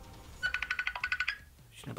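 A phone rings with an incoming call from a repeating electronic ringtone. Short bursts pulse in steady rhythm for about a second, then stop, and a voice follows near the end.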